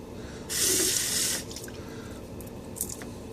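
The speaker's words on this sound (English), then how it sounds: "I'm just going to add some water to my brush" A tap runs briefly into a sink for about a second, a bright hissing splash, wetting a shaving brush, then shuts off, leaving quiet with a faint drip or clink.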